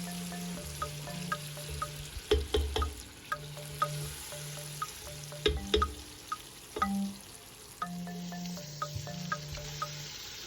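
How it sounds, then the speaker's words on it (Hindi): Potatoes and chicken frying together in oil in a pan, with a soft steady sizzle, repeated scraping and stirring clinks, and low hum in the background, close by. "काफ़ी देर मैंने पोटैटोज़ को चिकन के साथ भूना है"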